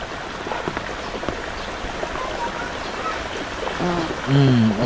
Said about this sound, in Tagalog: Kumakalma naman na yung ulan.